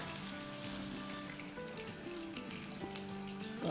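Spiced masala paste frying in a pan with yogurt for kebab masala fry, a soft continuous sizzle and bubbling at low level with light stirring, no voices.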